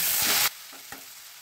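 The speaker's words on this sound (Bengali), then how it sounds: "এখন আমি এখানে এই পালং শাকগুলো, ধোয়া পালং শাকগুলো দিয়ে দিচ্ছি।" Washed spinach leaves hit a hot pan with a loud sizzling burst that cuts off abruptly, leaving a quieter hiss and a faint clink.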